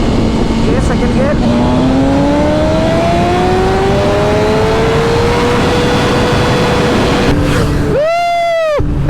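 BMW S1000 RR motorcycle accelerating hard in second gear, the engine note climbing steadily in pitch for several seconds, loud and close, then cutting off sharply with a quick rev near the end, with wind roar throughout.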